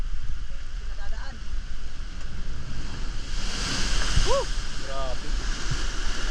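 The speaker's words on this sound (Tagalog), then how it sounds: "Grabe yung alon." Strong ocean waves at sea rush and churn in a loud, continuous roar with wind buffeting the microphone, while someone speaks briefly over the surf.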